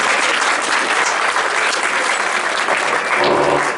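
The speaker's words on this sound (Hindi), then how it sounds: "आपकी तालियों की गड़गड़ाहट बजती रहे" Thick, continuous clapping fills the hall at a grocery traders' association event, loud and even throughout with no voices breaking through.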